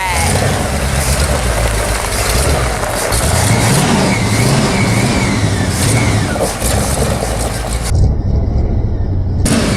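A 1953 GMC dually truck pulls away, its engine loud and close, revving and rising in pitch as it accelerates for several seconds.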